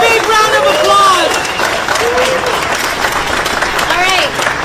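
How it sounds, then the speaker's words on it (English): Loud, close applause from a crowd at a Los Angeles labor protest rally, continuous clapping with cheers and shouting voices rising over it. "A big round of applause."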